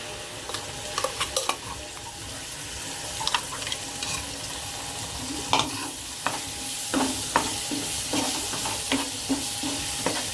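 Ground homemade masala paste sautéed with ridge gourd in a pan: a steady sizzle with repeated scraping and stirring strokes of a spatula against the pan, close and clear, without talk.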